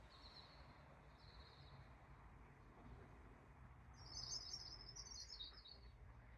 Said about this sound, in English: You can hear the blackbird outside.